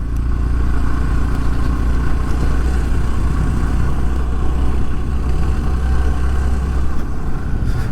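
Steady mid-pitched engine drone of a Honda Trail CT125 motorcycle riding along a forest road, loud and continuous with some clatter and wind rush, no speech.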